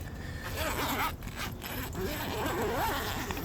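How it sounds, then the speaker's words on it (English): A zipper is drawn open on the annex room of a Smittybilt Overlander rooftop tent. It makes a steady, close rasping pull that lasts several seconds, with small scrapes and shifts mixed in. "I got to unzip this."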